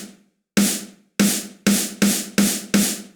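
An electronic snare drum sample from a Roland TD-50 module, with a compressor whose attack is set too fast, strikes six times at a loose, even pace. Each hit is a loud, close, sharp crack with a brief ringing tail, and no voices are heard.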